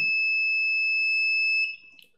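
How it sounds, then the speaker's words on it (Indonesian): A datalogger's temperature alarm sounds a loud, steady electronic tone close by, holding for about a second and a half before cutting off, with a few faint clicks afterward. "alarm mulai berbunyi"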